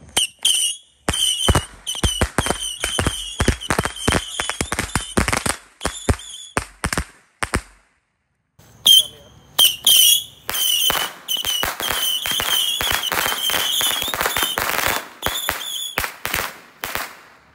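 Rapid strings of sharp firecracker bangs from a mini firecracker cake crackle close by at night, pausing briefly, then resuming as a dense continuous barrage of loud pops.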